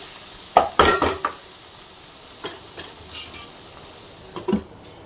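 Spinach and green chilies fry in a pan on a stove, giving a faint steady sizzle with a few short, sharp scraping stir strokes near the start and again near the end, with no talking.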